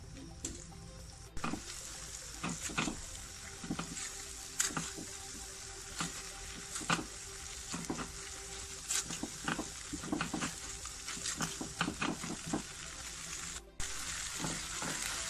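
Flour and milk cook in a pan for a chicken patties filling, a low sizzle under repeated clinks and scrapes of a spoon stirring against the pan, close and with no voices.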